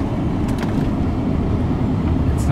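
Steady low road rumble from a Ford Panther-platform car with an Addco performance rear sway bar upgrade, cruising at a constant moderate level with continuous engine and tire noise throughout.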